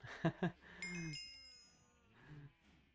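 Several short, high-pitched mooing calls from small cows in the video game GregTech: New Horizons, a few quick ones followed by longer drawn-out lows, fairly faint.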